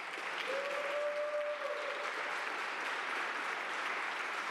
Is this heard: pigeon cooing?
no